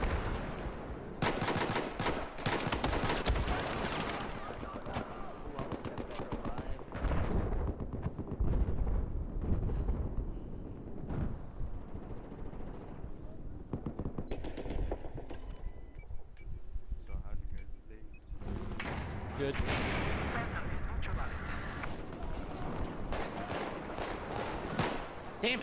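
Dense, sustained gunfire from a Battlefield 4 pistol match, loud and continuous with sharp bursts over a constant din of battle, with a voice talking underneath.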